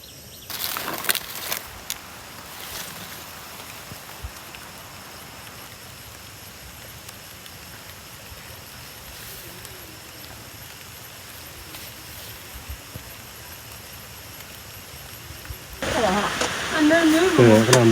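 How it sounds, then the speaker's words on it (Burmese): Rain falls steadily in a mountain forest with drifting mist, a soft continuous hiss that holds evenly for most of the stretch, then swells noticeably louder and denser near the end. "မိုးရွာနေမိုးခိုးနေ"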